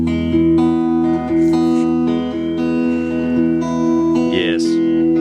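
A 1959 Gibson Skylark electric guitar plays a sustained chord through its original amplifier, the notes ringing steadily at close range with some strums and pick attacks over about five seconds.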